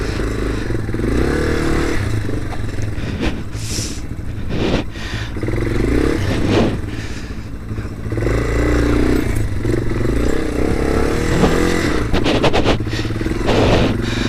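A motorcycle in second gear labors through a snowy rut, its engine loud and close and revving unevenly, with clattering and scraping from the wheels and bike in the snow. No one speaks.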